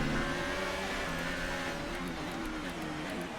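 In the F1 2018 video game, a Formula 1 car on intermediate tyres in wet conditions roars past with a steady, loud engine drone that holds throughout without pause.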